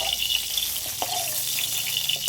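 Pointed gourd (potol) pieces frying in hot oil, a steady close sizzle with a few small pops and crackles.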